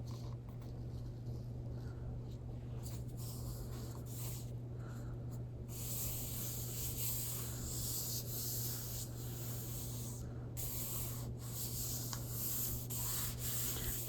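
Soft continuous rubbing and brushing as paper is smoothed down over a chipboard planner cover, close and quiet, in uneven strokes over a steady low hum.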